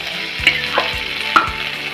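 Oil sizzles in a pan while misal is cooked, with a steady close frying hiss and a few soft knocks and stirring scrapes over two seconds.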